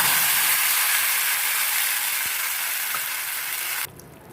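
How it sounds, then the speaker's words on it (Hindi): Tomato puree hits a hot pan during vegetable momo sauce preparation, giving a loud, steady hiss of sizzling that eases slightly before cutting off abruptly near the end. "तो दोस्तों अब मैं टमाटो प्योरी डाल रही हूँ।"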